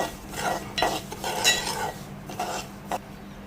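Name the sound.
roasted semolina being stirred into ghee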